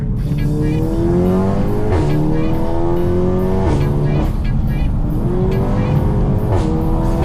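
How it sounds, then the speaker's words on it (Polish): A tuned Škoda Superb 2.0 TSI making about 503 hp is driven hard through corners, its exhaust loud and close as the engine revs rise and fall repeatedly, with sharp shifts and lifts between pulls and no talking. "Proszę posłuchać, jak tutaj pracuje wydech."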